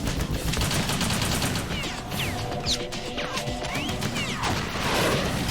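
Gunfire in Metal Gear Solid 2 as a gun shoots through a Metal Gear, dense crashing impacts and rapid shots layered with metallic smashing and ricochet-like whistles, loud and continuous with no talking.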